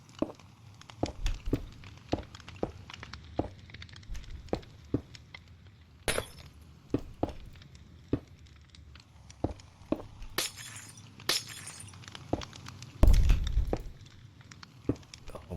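Minecraft glass panes break in a steady series of sharp, crisp shattering clicks spaced about half a second apart, quiet overall, with a few louder crackling bursts and a brief heavier thud near the end.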